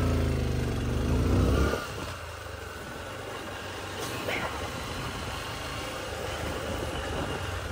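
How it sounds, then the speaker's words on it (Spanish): Motorcycle riding slowly into narrow neighborhood alleys in Rosario, engine revving briefly then settling to a low steady rumble, moderately close, with wind and street noise around. "entrando con la moto por los pasillos"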